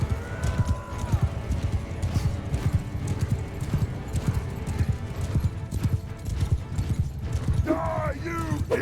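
Horses galloping in a Mount & Blade II Bannerlord battle, with thick, continuous clip-clop hoofbeats and a neigh near the end, under shouted voices and battle noise.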